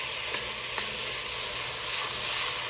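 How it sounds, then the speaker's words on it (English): A beef pan deglazed with moisture from onions and celery, giving a close, steady sizzle and hiss with a couple of faint stirring scrapes. "kind of deglaze it with the moisture from the onions"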